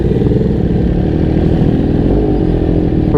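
Loud, lumpy race idle from an MV Agusta motorcycle sitting at a city stoplight, a close, uneven throbbing engine with rhythmic pulses and a slight rise near the end.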